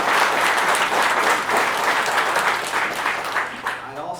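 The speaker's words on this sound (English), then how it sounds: "let's give Shannon another round of applause" Warm, sustained applause from an audience at a Department of Defense Pro Patria award presentation. It fills the room at full strength and then starts fading toward the end.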